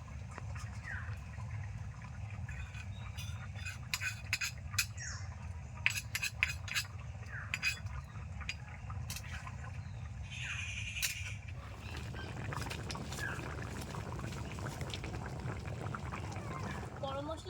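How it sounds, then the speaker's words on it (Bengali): Chicken curry with capsicum and chui jhal simmering in a pot, giving off soft steady bubbling with scattered small pops and clinks, under a person talking. "ঝোলটা এখন টকবক করে ফুটছে"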